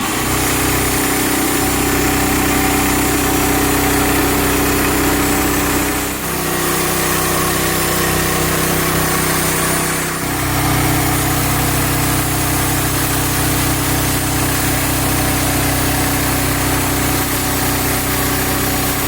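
Portable sawmill engine running loud and steady up close, with a constant broadband roar and a brief shift in pitch around a third of the way through as the load changes.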